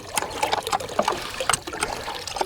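Water trickling and spattering from a hand-pumped homestead well, irregular close dribbles and drips running steadily without speech.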